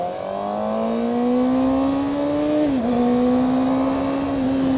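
Suzuki GSX-R 600 motorcycle on a ride, its engine note a steady loud drone that climbs slowly in pitch, dips briefly with a gear change, then holds and rises again, with no talking.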